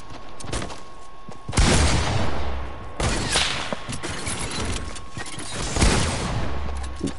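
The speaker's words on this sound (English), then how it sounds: "why do you have a freaking shotgun?" Repeated booming shotgun blasts from an online shooter game, several heavy shots spaced about a second apart over steady game noise, loud and close with no talk.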